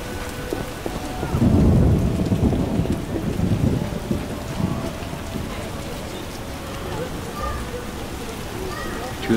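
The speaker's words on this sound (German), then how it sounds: "Das ist nicht gut, es regnet." Heavy rain pours steadily in The Witcher video game, with a loud rumble of thunder early on that fades into continuous rainfall.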